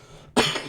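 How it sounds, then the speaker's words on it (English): A single sharp human cough bursts out abruptly after a brief quiet moment, loud and close, then trails off quickly. "Oh dear, I'm making myself cough now."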